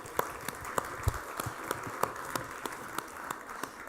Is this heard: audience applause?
yes